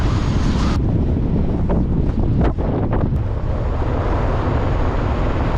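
Strong wind gusting over a lake at a wilderness canoe campsite, a loud, continuous broadband roar buffeting the microphone with faint watery wash beneath and no talking.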